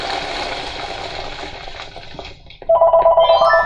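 A telephone rings loudly and alone in a steady pulsing pattern, cutting in abruptly after a stretch of blocky video-game TNT explosions rumbling and fading.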